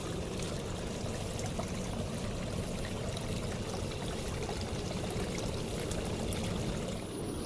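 Steady, continuous rush of water pouring from a hose at an overgrown jungle campsite, a dense unbroken splashing flow, close and fairly loud with no voices.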